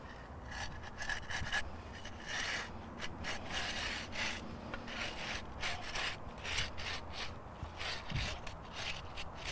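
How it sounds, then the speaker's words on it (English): A hand concrete groover scrapes a contraction joint into a fresh, harsh slab mix heavy with coarse aggregate, giving a steady gritty rasping and rubbing that runs continuously close by, with no talk. "Snap your line down in your fresh concrete and groove it right into the concrete."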